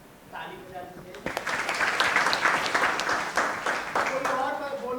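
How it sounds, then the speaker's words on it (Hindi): Audience applause in a theatre workshop setting in Bemetara, Chhattisgarh, with steady clapping from a group swelling after about a second and continuing to the end, fairly loud, with voices mixed in. "ताली बजा दीजिए।"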